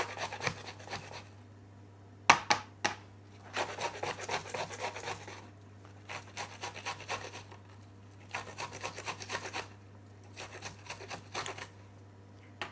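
Fresh corn cob rubbed against a kitchen grater, a series of bursty rasping scrapes in quick strokes with short pauses, close and moderately loud over a steady low hum.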